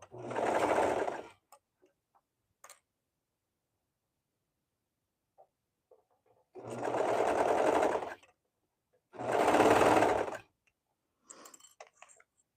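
Serger stitching a dress in three short bursts of a second or two each with long quiet gaps between, a close buzzing whir with faint clicks in the pauses.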